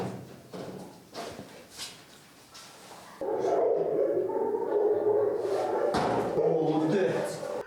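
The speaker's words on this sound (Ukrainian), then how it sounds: "За декілька хвилин заводять собаку, який має віднайти так звану закладку." Detection dog brought in to search a room for a hidden drug stash at a new police canine centre, heard as brief dog sounds and movement noises under talk, then a steady louder background of activity.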